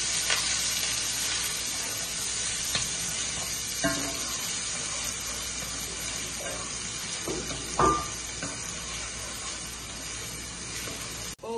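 Red onion sizzles in hot olive oil in a home kitchen pan, a continuous bright frying hiss with occasional stirring clatters and a louder spatter near the end.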